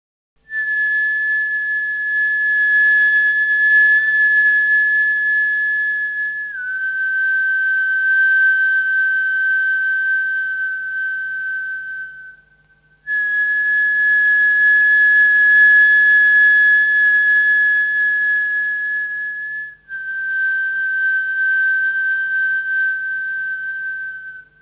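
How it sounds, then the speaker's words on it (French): A performer whistles sustained, steady pitches in George Crumb's chamber piece for alto flute, clarinet, piano and violin, four long held tones with brief breaks, the pitch stepping slightly lower in the second and fourth. "Le son est soutenu à la même hauteur par un sifflement de l'interprète"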